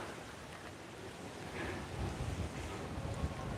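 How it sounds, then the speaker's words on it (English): Wind blows outdoors along a canal in Amsterdam's Jordaan, a steady rushing roar with buffeting gusts on the microphone that grow heavier toward the end. "we have windmills for a reason here, because we get so much wind"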